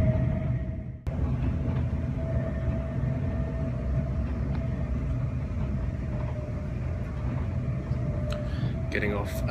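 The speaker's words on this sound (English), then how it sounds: "Getting off at the next train station." Inside a train carriage approaching a station in England, a steady low rumble of wheels and running noise fills the cabin with a faint constant hum, and a brief clatter near the end.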